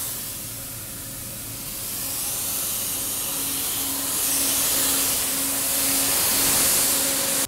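An Elgin Eagle street sweeper runs in place while burning a broom pattern, giving a loud steady broadband hiss and whoosh with a constant mechanical hum underneath that swells slightly partway through, with no talking.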